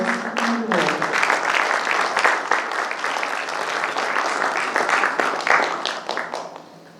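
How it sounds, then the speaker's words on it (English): Audience applause greets a sales director at a business conference in Goa, starting as a voice trails off, then a dense, steady round of clapping that fades toward the end. "let's hear a round of applause"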